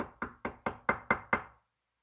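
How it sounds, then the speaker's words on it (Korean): Six quick knocks on a wooden door in a steady even rhythm, close and crisp, each with a short ringing decay, followed by silence. "그러나 문은 계속 이렇게 두드려집니다"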